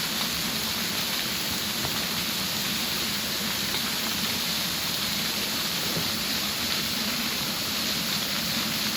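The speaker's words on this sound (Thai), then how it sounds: "นี่คือเป็นน้ำตกหน้ากลางห้วยน้ำตกกลางห้วยภูบ้านอ่างเลย" Waterfall in a stream at Ban Na Ang in Thailand, a steady broadband rush of falling water that holds constant and fairly close, with no voices over it.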